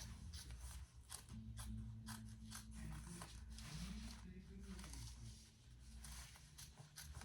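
Scissors snip repeatedly through the excess main-body fabric of a handbag, trimming close to the top stitching: a steady run of short crisp cuts over a continuous low tonal hum.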